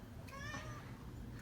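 A cat gives one short, faint meow with rising and falling harmonics over steady low room noise, with no speech.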